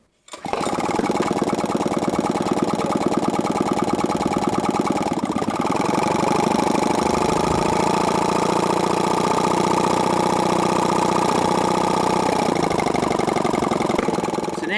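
A hydrogen-fuelled proof-of-concept engine with no muffler catches and then runs loud and steady, a raw, rapid mechanical beat that holds with little change.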